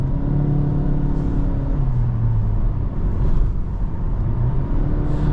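Honda Civic 1.5-litre 182 hp turbo engine pulling steadily as the throttle is pressed, a continuous loud low rumble with rising and falling engine tones heard from inside the car, no one speaking.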